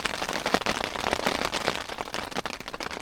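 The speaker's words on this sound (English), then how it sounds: "It's crazy rain." Heavy rain pelts a tent at a campsite during a rainstorm, a dense, steady hiss of close drops with sharper pattering hits, loud and continuous with no talking.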